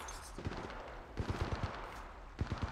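Bursts of automatic gunfire in Apex Legends Mobile, three quick clusters of sharp rapid shots separated by short pauses, moderately distant under ambient game noise.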